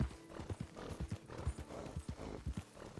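Horse hooves clip-clop steadily in a close, even rhythm, some steps heavier than others, on a horse ridden in the Red Dead Redemption II video game.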